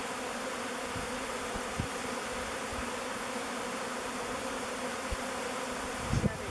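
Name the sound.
bees buzzing in a bee beard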